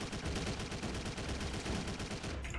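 Gunfire from the Driv3r video game, a dense, sustained burst of rapid shots filling the whole moment, loud and continuous without pause.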